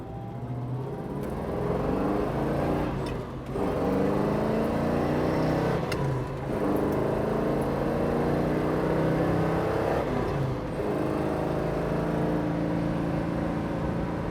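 A 1970 Ford Mustang Mach 1 cruises at highway speed, its engine droning steadily with road and wind noise from inside the car, rising and shifting through gear changes with brief dips between pulls.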